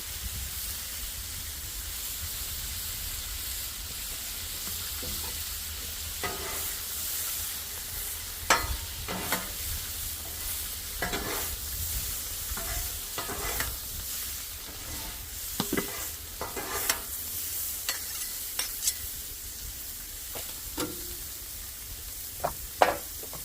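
Noodles are mixed and stir-fried in a hot pan, with a steady sizzle and hiss under scattered scraping and stirring clatters that recur irregularly throughout, with no voices.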